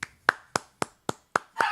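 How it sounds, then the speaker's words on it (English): Hands clapping in seven sharp, evenly spaced claps about a quarter second apart, close and loud, with nothing else heard between them. "I'm just clapping for NASA"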